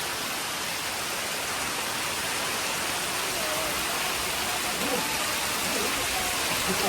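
Heavy rain with wind pours steadily as a dense, continuous roar outdoors near a village house and garden, loud and unbroken from start to finish.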